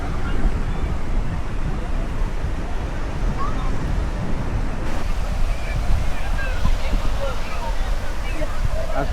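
Sea waves at Kuakata beach wash in a steady, loud surf roar mixed with wind buffeting, while people talk faintly.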